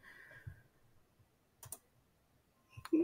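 A computer mouse clicks a save button, giving a couple of sharp, quiet clicks set apart by short silences, with no talking.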